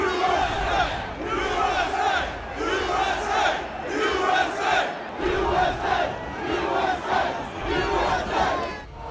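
A large crowd of rioters at the US Capitol chants in loud, rhythmic unison, the roaring phrases repeating in regular waves about once a second, dense and continuous across the whole stretch.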